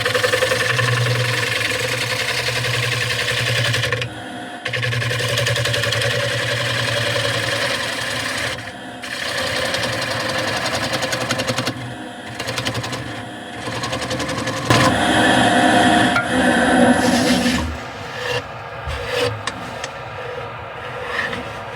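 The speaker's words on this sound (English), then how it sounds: "taking very, very light passes with the bowl gouge." A bowl gouge takes very light passes across an ash salad bowl spinning on a wood lathe, giving a loud, steady whirring hum with brief drops as the tool lifts off, then rougher scraping near the end.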